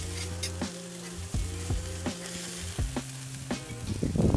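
Smash burger patties topped with cheese sizzling on a barbecue grill, a steady close frying hiss with a faint low hum underneath and a few light clicks, no talking.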